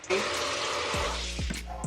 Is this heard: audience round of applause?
no